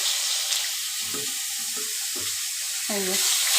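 Onion, ginger, garlic and tomato paste fries in a pan with a constant crackling sizzle, while stirring clatters and wet bubbling surface close by at a moderate level without talk.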